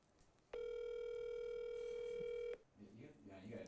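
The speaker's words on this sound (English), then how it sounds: "I'm going to call my Palestinian friend, Adam." A steady telephone tone sounds for about two seconds while a call is placed to a friend, clean and sustained, then cuts off abruptly as faint voices follow.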